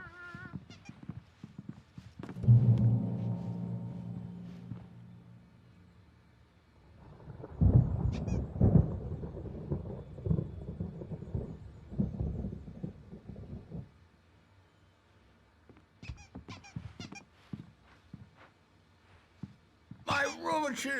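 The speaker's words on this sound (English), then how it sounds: "There's a storm coming. Oh, what a storm." A rumbling thunderstorm rolls through a scene in Alan Wake Remastered, long low swells of thunder with crackling bursts, rising and fading across the stretch, with sharp clicks near the end.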